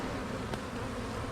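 Honey bees buzz in a dense, steady drone while a hive is opened and split, close and continuous throughout a brief moment.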